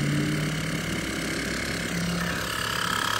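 Air being pumped into a PVC pipe that is not building pressure, with air escaping out the end: a steady mechanical droning hum with rapid rhythmic pulsing, continuous and fairly loud throughout.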